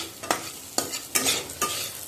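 Marinated chicken meat is put into a hot pot and stirred, giving four short scraping, sizzling bursts in a quick irregular rhythm, close and fairly soft, with no talk.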